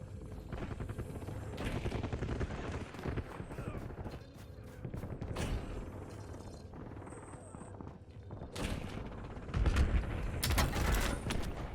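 Gunfire in Call of Duty Warzone Resurgence: rapid bursts of automatic fire and scattered shots, with mechanical clatter, a louder burst near the end and talk over the game sound.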